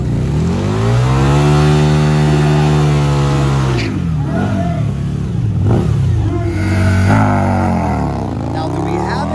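Harley chopper motorcycles drag racing bar to bar down the quarter mile, loud engines wailing and rising in pitch through the gears, with an announcer talking over the roar throughout.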